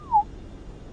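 A person gives a single short whistle, a brief falling then steady note, inside a moving vehicle while driving in and out of Poland, followed by quiet road rumble.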